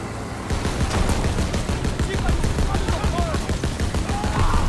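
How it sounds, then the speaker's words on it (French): Rapid machine gun fire in the Call of Duty WWII video game during a jeep road battle, dense continuous bursts with loud, close, rattling reports and a low rumble underneath. "Je me mets à la mitrailleuse."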